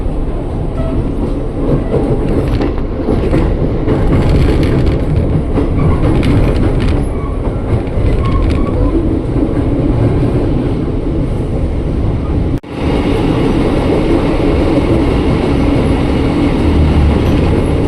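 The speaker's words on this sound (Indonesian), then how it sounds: "pas banget tuh ada yang kereta mau masuk Gambir" A train rolls into Gambir station in Jakarta, a loud, continuous rumble of wheels and carriages with clattering rail noise lasting throughout, heard from close by.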